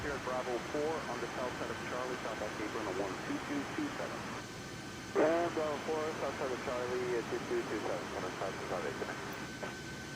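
Steady broadband engine drone inside the cabin of an Air Canada Airbus A320neo in flight, continuous and fairly loud, with people talking over it throughout.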